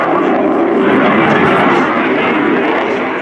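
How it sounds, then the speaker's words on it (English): A Lockheed Martin F-35B Lightning II jet flying a STOVL demonstration at an air show, its engine a loud, steady broadband roar that fills the air without a break. "now we see the STOVL capability beginning to be demonstrated by this aeroplane"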